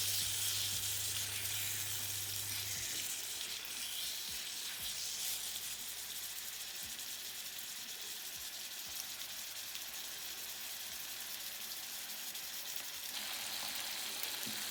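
Chicken for shawarma sizzles steadily in a hot frying pan, a continuous close hiss with faint scraping and stirring clicks throughout, and no voices.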